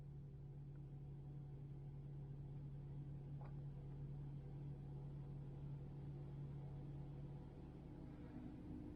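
Inside a stationary Tesla electric car, a faint, steady low hum fills the cabin and holds unchanged throughout, with no other sounds.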